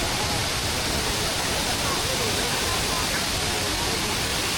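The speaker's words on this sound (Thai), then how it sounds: "จุดสูงสุดของน้ำตกตาดกวางสี" Tad Kuang Si waterfall in northern Laos rushes in a steady, dense roar of falling water that holds evenly throughout.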